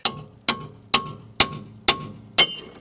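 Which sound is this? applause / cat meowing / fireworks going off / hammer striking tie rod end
hammer striking tie rod end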